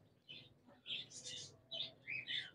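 Small birds such as frill and lory pairs at a bird market, giving a few short, faint chirps and tweets at intervals against a quiet background.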